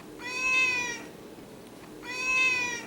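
A hungry house cat gives two loud, drawn-out meows about two seconds apart, each long and wavering, with no voices heard.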